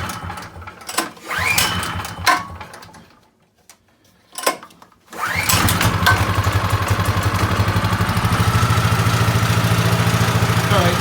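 Predator 212 engine in a golf cart, first with a few short revs and pauses, then settling into a steady, loud, close idle with the Comet clutch spinning in neutral.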